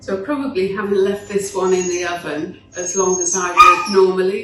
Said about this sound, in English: You might be able to hear my Scotties in the background there after a carrot